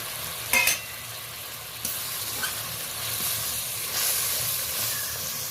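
Ground cumin, coriander, chili and turmeric sizzling in a pan with a little hot water, making a steady hiss. Brief stirring scrapes break through now and then.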